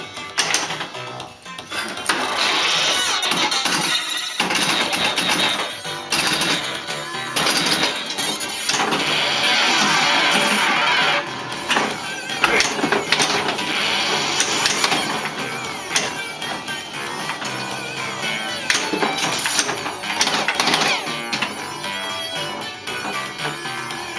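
A Dr. Dude pinball machine in play, with loud busy electronic sounds, ringing bells, clatter and bursts of noise that shift and flare continuously in dense, uneven waves throughout.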